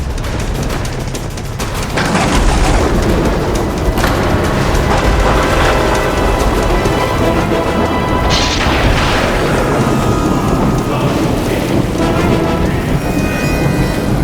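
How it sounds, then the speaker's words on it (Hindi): Heavy rain pours down in a storm, a loud dense hiss throughout, with thunder rumbling and booming in several swells over the downpour. "तुलसीदास, इतनी बारिश और तूफान में कहाँ जा रहे हो?"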